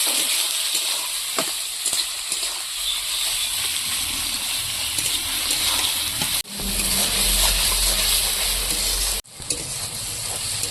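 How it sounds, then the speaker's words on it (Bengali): Chopped onion and tomato fry in a pan with a steady, moderate sizzle, broken by two abrupt cuts, after which the frying comes back louder and bubblier, with no voices heard. "পেঁয়াজ আর টমেটোটা সুন্দর করে ভেজে নেব।"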